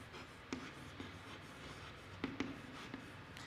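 Pencil or pen writing on paper as a girl writes out a maths question in a third-grade exercise book: soft, continuous scratchy strokes with a few sharper taps, quiet and close, with no voices.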